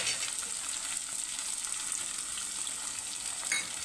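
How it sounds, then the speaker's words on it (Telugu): Ingredients for sweet corn rice fry in a pan, a continuous bright sizzle with soft crackles and an occasional stir, steady and fairly close. "చూడండి, కొంచెం ఉబ్బినట్టు వేగుతున్నాయి."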